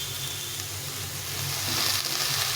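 Pumpkin greens hit hot spices in a frying pan, giving a steady, soft hiss of sizzling that holds evenly and swells slightly toward the end.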